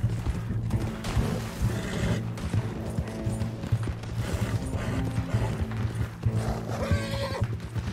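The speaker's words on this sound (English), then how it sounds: "Giddy up, Buttercup" A horse gallops in the video game Red Dead Redemption 2, with rapid clip-clop hoofbeats, a loud whinny and busy game sounds throughout.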